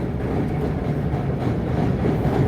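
A train rumbles past nearby in the Bronx, New York City, with a continuous low roar and faint rhythmic rattle of cars, steady throughout with no talking.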